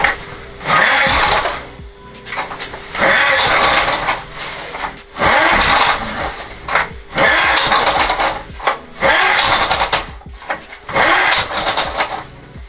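The starter cord of a worn small walk-behind mower, with no ignition, is yanked about six times in a row; each pull gives a loud, brief rasping whir with short pauses between, and the engine never catches.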